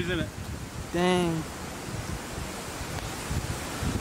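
Strong hurricane wind outdoors roars as steady broadband rushing noise with buffeting against the microphone, while a voice briefly speaks near the start.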